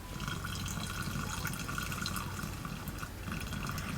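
Blessed holy water is poured into a container for a money-wash ritual, a steady close splashing stream that runs unbroken for several seconds.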